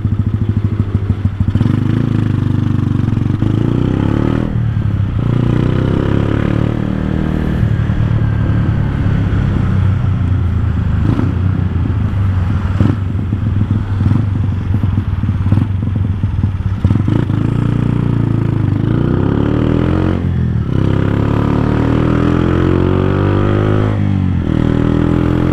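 A small motorcycle with its rev limiter disabled revs hard and continuously at close range, the engine climbing and dropping in pitch through repeated loud sweeps with a steady rumbling drone underneath.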